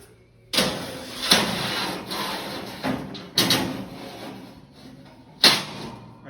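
Sheets of 1/8 inch metal plate are set down one after another on a plasma cutting table, giving four sharp clanking impacts with ringing tails spaced a second or two apart, close and loud, with quiet gaps between.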